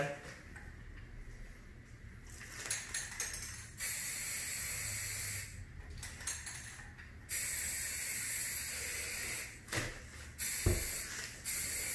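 A spray paint can hisses in several long, steady bursts while a Pacman and ghost figure are painted for a DIY craft, with pauses between sprays and faint voices in the background.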